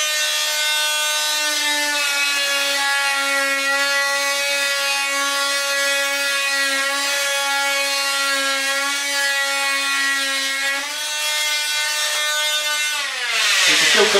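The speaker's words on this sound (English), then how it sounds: "See there, just cuts straight through it." A Fein MultiMaster oscillating tool buzzes steadily through timber for about thirteen seconds, a loud close tonal whine that ends in a falling pitch as the blade breaks through.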